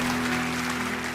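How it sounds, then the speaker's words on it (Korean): Dense, steady applause from a church congregation at a dawn revival service fills the whole short moment, with a sustained low hum running underneath. "우리 한 번 더 박수로, 큰 박수로 그 수고하신 거 감사를 전합니다"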